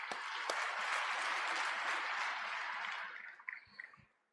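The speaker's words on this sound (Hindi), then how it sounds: "मैं चाहता हूं एक बार आप तालियां बजाएं।" An audience claps together in memory of Heeraben at a Brahma Kumaris gathering, a dense sustained wash of applause for about three seconds that then thins into a few scattered last claps.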